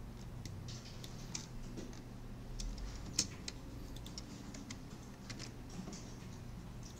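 Keys on a computer keyboard are tapped in scattered light clicks with one sharper keystroke, faint and close against a quiet room hum.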